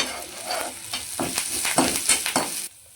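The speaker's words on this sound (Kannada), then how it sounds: "ಇವಾಗ ಕಾಯಿ ತುರಿಯನ್ನು ಫ್ರೈ ಮಾಡ್ಕೊಳ್ಳೋಣ. ಮೊದಲಿಗೆ ಸ್ವಲ್ಪ ಆನಿಯನ್ ಹಾಕ್ಕೊಳ್ತಿದ್ದೇನೆ. ಸ್ವಲ್ಪ ಕರಿಬೇವು ಹಾಕ್ಕೊಂಡಿದ್ದೇನೆ." Grated coconut frying with onion and curry leaves in a pan for Mangalorean egg sukka, a loud close sizzle with scraping stir strokes, ending abruptly.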